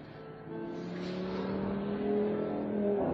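A car drives close behind on a road near a river in the morning, its engine a steady rising hum with a gradual swell in loudness, heard alone with no talk.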